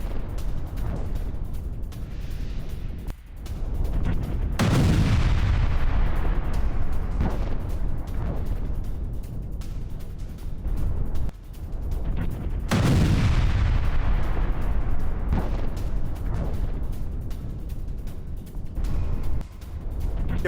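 Heavy artillery shelling in combat hits a Russian T-72B tank, with two large booming blasts several seconds apart rolling into long rumbling decays, amid scattered smaller bangs and continuous battlefield noise.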